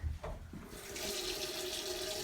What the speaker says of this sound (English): Adam turns the water on and make sure his sleeves are rolled up.